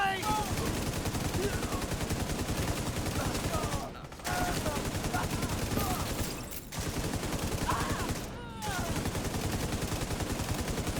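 Video game gunfire fills the whole stretch with dense, rapid bursts of automatic shots, broken by two or three brief pauses.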